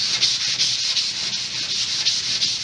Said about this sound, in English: We sand the wood along the grain just to give it a final sand over.